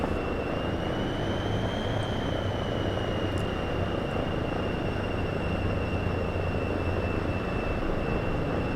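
A light aircraft engine drones steadily as the plane rolls along the runway in the X-Plane 6 flight simulator, a constant close hum with a high whine and no breaks.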